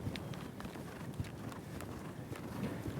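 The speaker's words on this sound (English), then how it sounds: "He's just loping around." Horse hooves thud in a steady three-beat lope on soft ground, with wind buffeting the microphone throughout.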